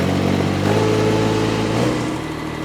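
Mini skid steer running a high-flow hydraulic attachment, a steady near diesel engine chug with a hydraulic whine that rises briefly mid-way and then settles lower as the load eases.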